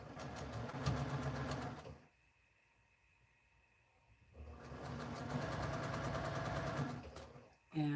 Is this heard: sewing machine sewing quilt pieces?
yes